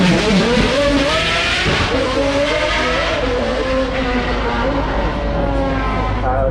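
McLaren P1 supercar driving up the Goodwood Festival of Speed hill climb, a loud, sustained engine roar with rising and falling pitch, heard with crowd and commentary noise and people talking throughout.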